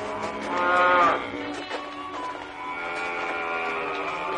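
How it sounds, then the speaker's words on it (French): Cows moo loudly in a barn, one long drawn-out low peaking early, followed by fainter lowing and shuffling, with no talk over it. "Qu'est-ce qu'elles ont à meugler comme ça?"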